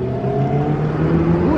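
A 2020 Chevrolet Corvette C8 engine revs up close, its low growl climbing steadily in pitch.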